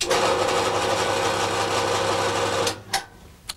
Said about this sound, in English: now I can use the endless loop of steel of my bandsaw